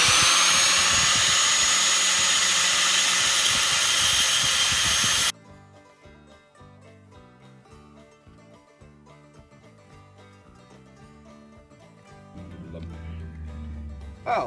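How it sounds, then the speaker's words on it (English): An angle grinder cuts metal during a robot lawnmower repair: a loud, harsh, continuous grinding roar for about five seconds that cuts off abruptly, leaving a much quieter tonal background. "angle grinder and spanner and yeah, fix it, Rich."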